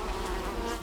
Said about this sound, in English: On a cold spring day like this one, we couldn't open up the hives, but the bees were definitely there.